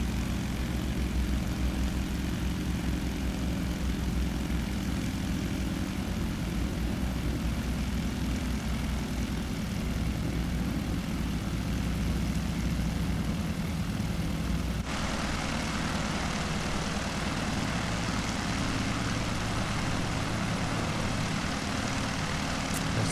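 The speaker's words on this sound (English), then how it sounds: "stand 1 is dedicated to these small prop aircraft, so we're making our way over to that." A Britten-Norman Islander propeller aircraft taxis toward its stand, a loud, continuous engine and propeller drone that shifts in tone partway through and runs without pause.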